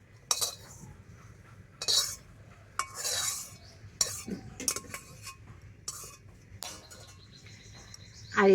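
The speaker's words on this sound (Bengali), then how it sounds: "আর এই সবজিগুলো দিয়ে ব্যাটারটাকে আবার একটু ভালো করে মিশিয়ে নেব।" Batter mixed with fried vegetables is stirred in a bowl, giving repeated wet scraping and clinking strokes in bursts, close and moderately loud, with no talking.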